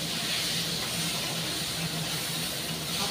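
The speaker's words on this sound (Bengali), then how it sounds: "তা আমার চিংড়ি মাছটা মোটামুটি ভাজা হয়ে এসেছে।" Prawns frying in a pan make a steady, even hiss with a faint low hum under it. The sound stays close and constant from start to end, with no voices.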